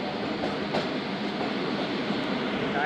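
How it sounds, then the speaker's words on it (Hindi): A Zakariya Express passenger train runs with a steady, loud, continuous rumble and rolling wheel noise that holds evenly throughout. "मुबारकपुर से रवाना हुई है 25 ज़िक्रिया एक्सप्रेस।"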